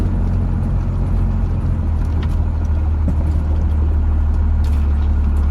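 An all-original barn-find Cummins truck drives along, its diesel engine giving a steady, loud, continuous low rumble with road noise and no break.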